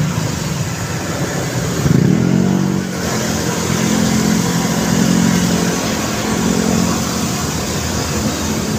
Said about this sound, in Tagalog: Traffic yun guys.